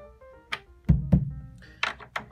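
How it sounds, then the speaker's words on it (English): A freshly reheaded bass drum, its head only loosely tightened, gives two deep, close thuds in quick succession, followed by a few lighter knocks and taps. "Starting to sound like a bass drum."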